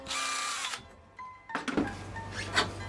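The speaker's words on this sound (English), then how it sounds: "Here I drilled out the remaining rivet bits." A power drill bores out leftover rivet bits on the front fender of a 2000 Kawasaki Ninja EX250, a whining burst followed by a pause and then a second grinding run with small metallic clatters.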